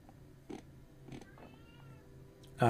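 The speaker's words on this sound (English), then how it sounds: "Meow, yep, that is my cat wanting food." A domestic cat meows for food, two short soft calls about half a second apart, with a faint game soundtrack humming underneath and a louder burst of sound at the end.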